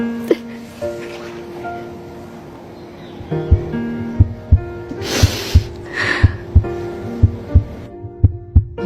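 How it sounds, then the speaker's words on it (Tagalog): Rhythmic human heartbeat thumps, a steady series of soft low pulses roughly every half second, entering after a few seconds of quiet room tone with a brief breathy noise in the middle. "Pwede ko bang marinig ang tibok ng puso mo?"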